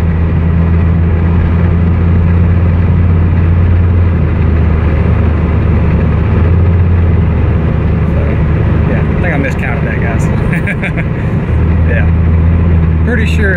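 A Toyota MR2 with a 5-speed automatic transmission drives along, its engine droning steadily at a loud, close level. Pitch holds through the run, with a brief dip where a gear change comes through near the end.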